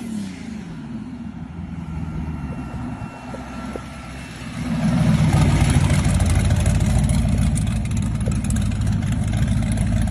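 An all-wheel-drive four-door Chevy donk with a twin-turbo 1200-horsepower engine idles steadily, then swells into a louder, deeper sustained rumble about halfway through, close and continuous with no talk.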